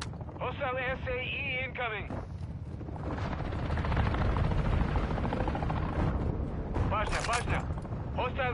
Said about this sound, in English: Friendly VTOL inbound.